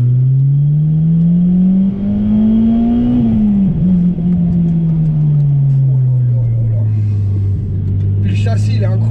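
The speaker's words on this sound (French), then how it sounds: "Il faut juste kiffer le bruit, kiffer les vibrations et puis kiffer le VTEC qui s'ouvre aux 6000 tours." A Honda Civic Type R EP3 with a K20 engine revs up and then falls away, its pitch climbing and dropping over several seconds, loud and close, with someone talking over the engine.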